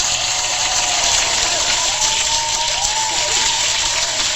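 A crowd cheering sound effect played from a phone soundboard, a continuous wash of applause and cheering with faint whistles, steady and fairly loud throughout, with no talking over it.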